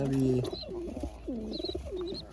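Fancy pigeons in a loft, a parent feeding its chick, heard as soft low coos and throaty warbles mixed with brief higher squeaky chirps, close and fairly quiet.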